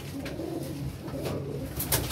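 Red-eyed pigeons coo continuously in soft, low, rolling throaty calls, near and steady, with no one speaking.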